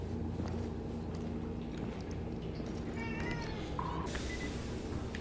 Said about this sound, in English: That is one annoyed cat.